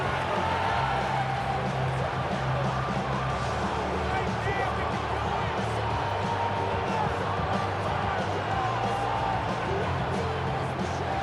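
A football stadium crowd roars steadily through a late fourth-quarter game on third down, a dense continuous wall of cheering and murmur from start to finish.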